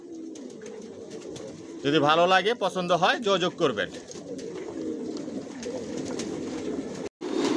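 Original Johnson-line racer pigeons cooing inside a loft, a burst of rolling, throaty coos rising over steady background talk from someone speaking nearby.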